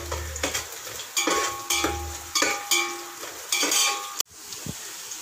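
Onions frying in a pan for biryani, with rhythmic bursts of stirring and scraping against the pan over a steady close sizzle, ending in a sharp clatter of the utensil and a brief quieter moment.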